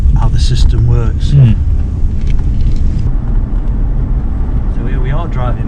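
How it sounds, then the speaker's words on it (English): A Rolls-Royce Shadow Coupe with 88,000 miles on it, heard from inside as it drives: a steady low engine and road rumble runs throughout, and voices talk over it. "So here we are driving Mickey Mouse Rolls Royce."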